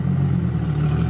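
Nissan 350Z with aftermarket muffler and resonator exhaust, a steady low engine drone held at a fairly constant pitch for about a second, close and moderately loud with no voices.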